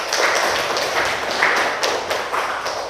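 A classroom of students claps together in dense, steady applause that holds at an even level throughout, with no voices standing out.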